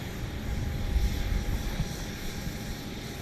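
A Boeing 737 MAX 8 airliner on approach from Phoenix to Dallas Love Field, heard as a distant, steady low jet rumble with a broad airy wash and no voices.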